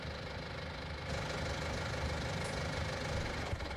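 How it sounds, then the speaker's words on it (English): Tractor engine in Farming Simulator 19 running at a steady idle, a continuous low rumble that steps up in level about a second in and holds near and even to the end. "We'll go ahead and start this tractor up."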